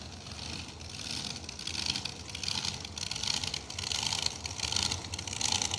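Supercharged blower drag race car at a Working Man's $10 Grand drag race, a loud, steady broadband engine roar sustained throughout with slight swells, no talk over it.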